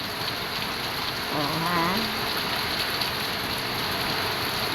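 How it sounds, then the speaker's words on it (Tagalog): Heavy rain pours steadily in a broad, constant hiss close by, a downpour in February. A person briefly exclaims partway through. "Ang lakas ng ulan, guys."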